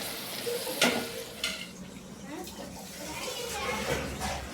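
Food frying in oil over a high flame, a continuous sizzle broken by sharp spoon scrapes and clatters, with voices talking in the background.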